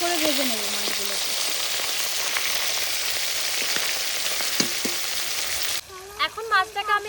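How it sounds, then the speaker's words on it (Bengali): Bhola fish sizzle in hot oil in a wok with a dense, continuous crackle and occasional stirring taps, close and steady; a voice briefly speaks at the start and again over the frying near the end. "একদম ভালো করে লাল লাল করে ভেজে নেব।"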